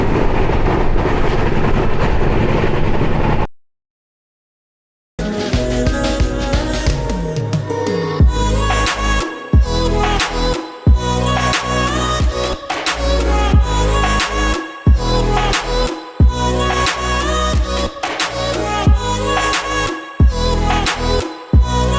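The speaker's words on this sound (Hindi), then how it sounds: "और हमारी ट्रेन ने गोरखपुर से डिपार्चर ले लिया" Bihar Sampark Kranti train pulling out of a Gorakhpur platform: a steady, loud rumble of rolling coaches with rhythmic clatter and periodic thumps. A brief silent gap comes early, then continuous motion noise follows.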